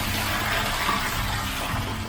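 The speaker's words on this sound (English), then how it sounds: "that's a nice sound to hear. It means there's water getting into there." Water rushing into a whole-house spin filter during a DIY installation, a steady, close hiss of flow with no break and no talk.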